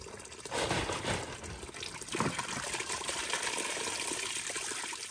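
Water poured from five-liter plastic bottles at a remote farmstead, a steady close trickling and gushing pour running continuously with slight surges, no talk over it.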